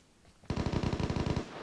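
Automatic gunfire in the video game Vigor, one short burst of about a dozen rapid, loud cracks in even rhythm after a brief quiet lead-in.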